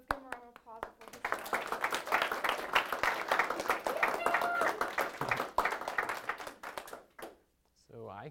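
Audience applause at a faith talk, a dense spread of clapping hands that swells after a brief spoken lead-in, stays steady for several seconds, then fades into quiet before a voice resumes.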